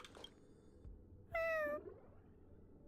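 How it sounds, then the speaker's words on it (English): A cat meows in the Honkai: Star Rail video game, one clear, loud mid-length meow that falls in pitch, set against quiet background sound with faint noises around it. "It's a cat."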